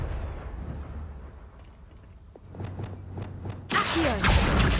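A Confringo blasting spell goes off in Hogwarts Legacy, a sudden loud explosion late on that erupts after quieter scattered clicks and rumbles and keeps roaring to the end.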